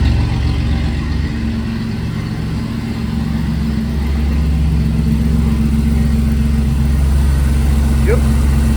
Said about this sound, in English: let's see if the compressor is kicked on.